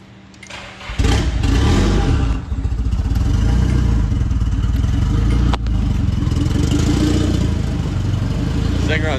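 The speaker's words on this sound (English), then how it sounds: "Thing runs good." A JDM swap engine that sat unused for six years cranks, catches and then idles roughly and steadily, loud and close, with no intercooler piping or MAP sensor fitted, and a voice talks over it.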